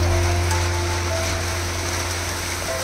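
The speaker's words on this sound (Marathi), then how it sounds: "आता थोडासा पावसाचा जोर वाढलेला आहे" Steady rain of the season's first downpour in coastal Konkan falls outdoors, a dense, even patter on surfaces with a low constant hum beneath, no voices.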